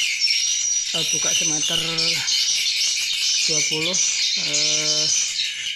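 A swiftlet attracting call plays inside a swiftlet house, with short bursts of repeated chirping squawks in two groups over a steady high hiss of background twittering, and someone speaks briefly.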